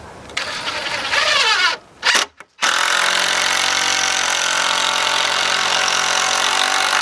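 Long screws are driven with a power drill, its loud close whine running hard, cutting out in a couple of brief stops near the start, then running continuously to the end.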